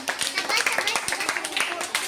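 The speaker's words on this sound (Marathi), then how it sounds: "टाळ्या पण घ्यायच्या आहेत बरं तुम्ही" Children clapping in a first-grade classroom activity, quick rhythmic claps close by, mixed with an adult voice talking over them.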